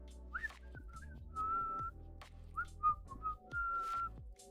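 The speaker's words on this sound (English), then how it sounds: "and this is my blowing out whistle." A person whistles by blowing air out, producing a string of short pitched chirps and two longer steady tones, close and fairly soft, with small gaps and faint background noise but no speech.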